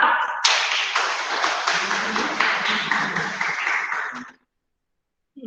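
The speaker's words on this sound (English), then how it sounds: "Please give a clap." Audience during an international webinar on human genetics gives a burst of clapping with a low murmur of voices beneath, holding fairly loud for about four seconds before cutting off abruptly into silence.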